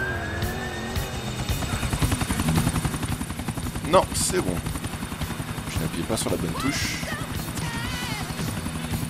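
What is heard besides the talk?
helicopter taking off in video game GTA IV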